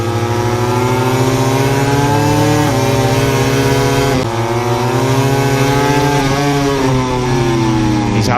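MotoGP racing motorcycles, including a Ducati and a Suzuki, scream loudly through 4th, 5th and 6th gear at the Catalunya circuit, high-pitched engine whine rising and dropping sharply at each upshift, continuous and close, with race commentary faintly beneath.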